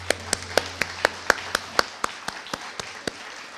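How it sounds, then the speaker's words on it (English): A few scattered claps follow a presentation on Great Northern and Blackfeet history, sounding as a thin, slowing run of about fifteen distinct hand claps, moderately close, with a low steady hum underneath. "Let's give them one more round of applause."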